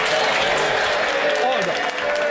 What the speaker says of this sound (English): you ought to be embarrassed by clapping